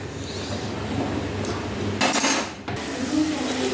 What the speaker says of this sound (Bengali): এই দেখো মশলাটা কষাচ্ছি